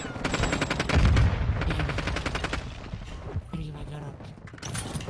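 Rapid automatic gunfire bursts in a shooting video game, loud and close, with a player talking over the shots.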